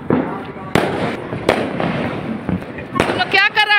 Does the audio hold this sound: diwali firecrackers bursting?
yes